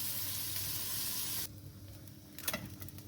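Chicken fries in sunflower oil with a dense, hissing sizzle that cuts off abruptly partway, leaving quieter crackles and a brief sputtering burst near the end.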